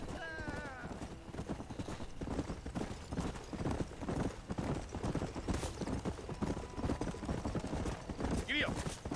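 Horse hooves clip-clop steadily in the Red Dead Redemption video game, loud and close, with a short whinny near the end and voices talking over the hoofbeats.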